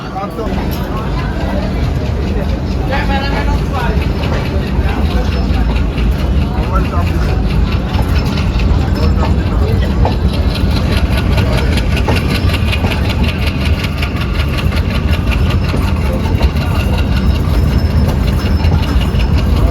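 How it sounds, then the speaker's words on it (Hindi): A Bangladesh Railways train runs steadily under a loud continuous rumble of engine and wheels with rhythmic clicking on the rails, heard from inside the carriage, with a voice talking over it. "बस इसके निकलते ही अपनी ट्रेन को ही सिग्नल मिल गया है।"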